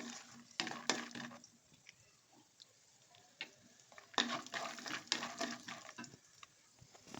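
Almonds fry in a pan for a dry fruits laddu, with faint sizzling and scattered clinks and scrapes of stirring, quiet overall with a few brief louder bursts.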